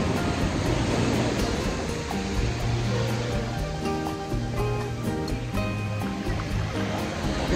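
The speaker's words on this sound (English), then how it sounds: "These waves are crazy though." Ocean waves break on a beach in Mexico in a continuous, loud roar of surf, with a steady wash of water and no clear pauses.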